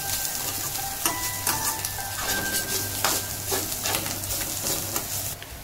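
Turmeric gets stirred into an onion mixture frying in a pan for a prawn sandwich filling, a steady sizzle broken by scraping spoon strokes and light clinks against the pan.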